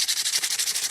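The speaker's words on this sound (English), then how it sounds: "we're just going to scratch off the writing with the sandpaper" Sandpaper rubs briskly across a saw handle to scratch off printed writing, a quick run of close, rhythmic scraping strokes with nothing else heard.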